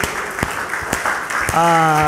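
A church congregation claps for the Lord with scattered, sharp hand claps over a broadband wash of sound, then a sustained voice or instrument tone rises near the end.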